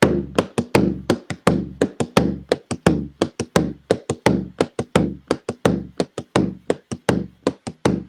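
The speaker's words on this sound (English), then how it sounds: "I'm going to do an open tone and take my backhand off the drum" Hand drum struck in a quick, steady rhythm, sharp ringing open tones mixed with softer backhand slaps, played alone and close for several seconds.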